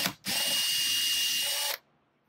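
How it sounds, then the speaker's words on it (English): A power drill bores into a printing board with a short, high, steady whine of about a second and a half, close by and alone, starting and stopping abruptly. "so that when I'm drilling, I'm not drilling into my table"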